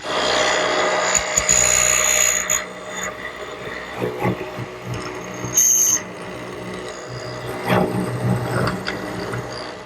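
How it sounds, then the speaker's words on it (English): A mortiser whirs as its bit bores mortises into wood, with intermittent bursts of cutting noise, knocks and clatter between passes. "So I've readjusted my mortiser and we'll drill those out."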